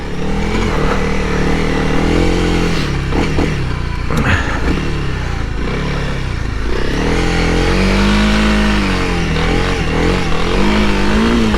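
A Honda CRF300L motorcycle ridden off-road through sand, its engine loud and close throughout, revving up and down with rising and falling pitch and a mechanical clatter.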